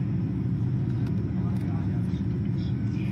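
Military jets in an air force flypast, the formation finishing with Sukhoi Su-30MKI fighters, pass as a steady broadband roar with a strong low rumble that continues without a break for the whole stretch.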